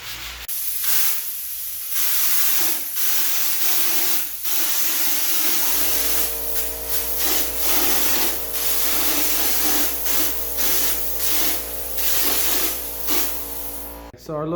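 Drywall texture sprayed from a sprayer, a broad loud hiss that runs nearly the whole time, with a steady low motor hum joining partway through and a voice talking over it.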